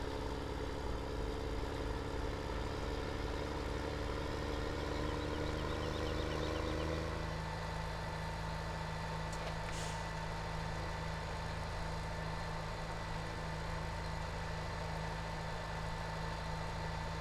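A John Deere tractor idles in Farming Simulator 17 with a steady low engine drone and a faint humming tone, its pitch dropping slightly partway through, then holding at an even, constant idle.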